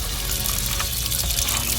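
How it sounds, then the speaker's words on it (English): Water runs steadily from a tap during a toy car wash, a continuous close hiss and gush with no talking. "Leave the water on."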